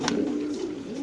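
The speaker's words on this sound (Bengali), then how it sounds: "একটা মাদি কবুতর" A female pigeon at a bird market gives one low, rolling coo, close and clear, lasting about a second, with a faint background hum.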